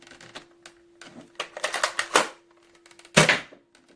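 A Nerf toy blaster fires in single-shot mode, giving a series of sharp plastic clicks and clacks in irregular bursts, ending in one louder snap near the end, close and dry over a faint steady hum.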